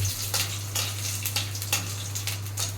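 Panch phoron and chili fry in hot oil in a pan, a steady close sizzle with crackling bursts and occasional stirring taps, over a constant low electrical hum.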